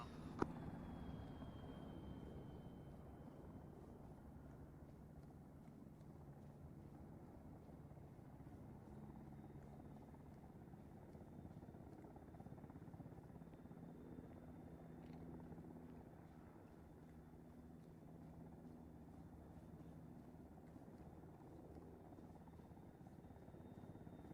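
Helicopters pass overhead in the military video game Arma 3, a low steady rotor drone with a faint high whine, continuous and fairly quiet, swelling slightly early on and holding through the clip.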